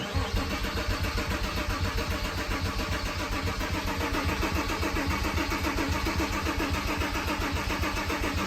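Car engine cranking over and over after a fuel pump relay swap on a battered Beetle or poorly Porsche, a steady rapid churning rhythm that never catches, close and loud throughout.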